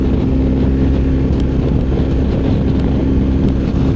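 A 2025 BMW R 1300 GS Adventure cruises along a highway, its steady engine drone blended with heavy wind rush and road roar at constant loudness.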